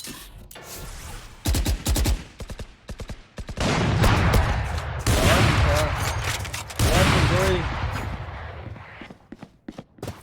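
Gunfire in the video game Valorant, with sharp single shots followed by long rattling bursts of rapid fire, loud and close, with a voice talking between volleys.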